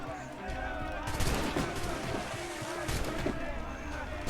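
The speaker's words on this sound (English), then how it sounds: "since our puckle guns are basically like a Gatling gun" Rapid repeated firing of a puckle gun, a Gatling-style ship weapon in Assassin's Creed Rogue, a steady stream of shots mixed with game noise, with a voice talking over it.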